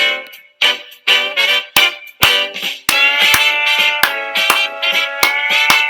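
Bright, brassy 1920s jazz band Charleston music with sharp percussive hits on a bouncy, syncopated beat, starting in choppy bursts then playing continuously.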